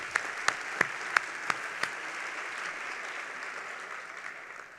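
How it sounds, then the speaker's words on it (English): Soft, distant round of audience applause at a talk, a wash of many hands with a few sharp louder claps near the start, fading gradually. "Can you give her one more round of applause?"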